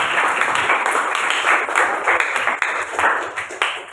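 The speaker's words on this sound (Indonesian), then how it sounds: "tepuk tangan untuk kelompok satu" A classroom audience claps for a student group after its presentation, a lively, uneven patter of many hands with rising and falling bursts that carries on throughout.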